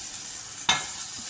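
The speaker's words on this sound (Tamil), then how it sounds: "இப்போ நல்லா பஜ்ஜி மிளகா வந்து வதக்கிக்கலாம்" Bajji chili peppers sauté in a pan: a short sizzle, with one sharp clatter of stirring midway, then a steady quiet frying hiss.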